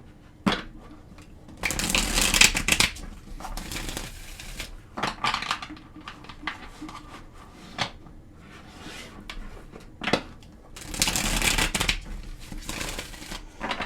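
Bursts of tarot card shuffling, brisk riffles separated by quieter handling and soft tapping, close and moderately loud with no talking.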